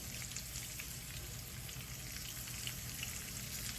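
A tomahawk ribeye steak sizzles loudly and steadily in a pan just after being flipped, a close, continuous crackling hiss with no talking.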